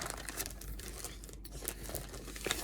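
Plastic crinkles and rustles up close in quick, soft bursts, handled continuously for a few seconds with no talking.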